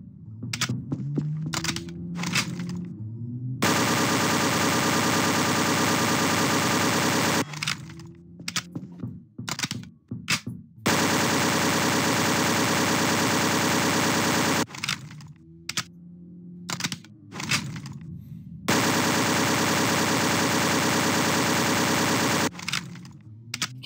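A Carl Gustav M/45 submachine gun fires in Garry's Mod. Long sustained bursts of rapid, loud fire are split by short pauses, with scattered clicks and thumps between the bursts.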